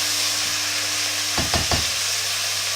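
Vegetables for a traditional bolognese sizzle in a pan under a constant frying hiss, broken midway by three quick scraping strokes of a spoon stirring them.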